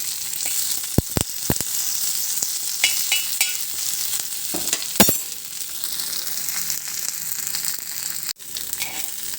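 Curry leaves and coriander seeds fry in hot oil with a steady, close hiss and crackle, punctuated by several sharp spoon-against-pan clicks and scrapes.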